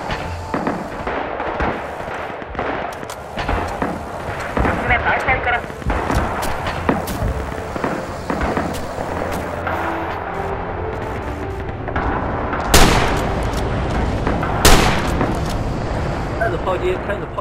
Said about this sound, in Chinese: 炮击，开始炮击。